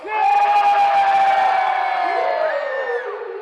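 A crowd of the Orange Crew at a dinner show cheers and shouts loudly on cue. The mass roar swells at once, holds strong and then fades into scattered whoops.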